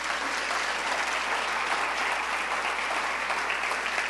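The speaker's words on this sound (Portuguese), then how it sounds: "Você pode aplaudir o que o Senhor está fazendo entre nós?" A church congregation applauds during a service, a continuous wash of many hands clapping at an even level for the whole stretch, with no voice on top.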